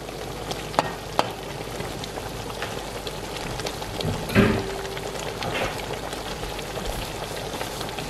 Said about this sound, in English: I'm now gonna go ahead and add our prawns,